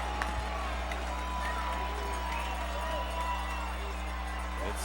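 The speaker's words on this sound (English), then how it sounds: "You hear the Whittmer fans cheering, Grizzly fans cheering" Whittmer and Grizzly fans cheer in the stands at a 2011 Wadsworth high school football game: a steady, distant crowd roar that holds throughout, with a constant low electrical hum beneath it.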